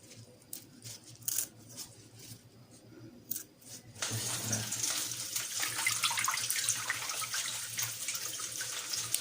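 A kitchen tap is turned on partway through and runs steadily, rinsing fresh red shrimp with trimmed feelers under the stream after some quiet clicks and handling noises.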